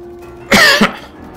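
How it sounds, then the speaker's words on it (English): A single close, sharp cough with a quick second burst, followed by quiet room tone. "Excuse the coughing."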